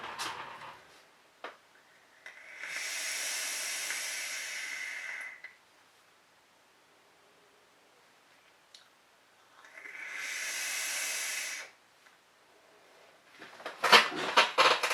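Two long, loud airy draws through a Coilart Mage RTA atomizer with a Clapton coil at 45 watts and airflow fully open, each a steady rushing hiss lasting several seconds, separated by quiet, with small clicks and a short burst of crackle at the end.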